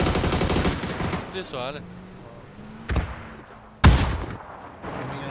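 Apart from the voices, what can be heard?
gunfire in a video game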